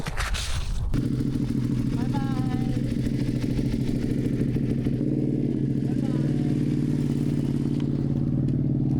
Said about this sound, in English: I'm turning my bike on now and Joey's leaving. And yeah. Damn, does that Ducati sound good